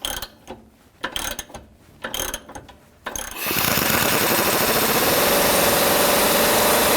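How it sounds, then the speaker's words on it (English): On a Nissan Sentra, a rear shock bolt is tightened, first with a burst of ratcheting clicks and then with the continuous loud buzzing whir of a power tool that runs on steadily. "And tighten the bolt up."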